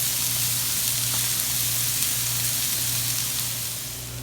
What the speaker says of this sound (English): we're going to let them saute for about 5 minutes